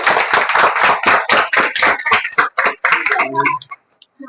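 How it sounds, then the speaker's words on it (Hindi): Audience clapping in a Chhattisgarhi comedy vlog setting, a burst of close, loud hand claps with uneven rhythm that thins out and stops after about three and a half seconds. "एक बार जोरदार ताली"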